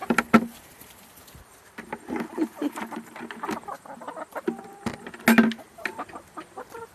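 Chickens clucking and squawking nearby in short irregular bursts, with scattered scuffling and outdoor background noise.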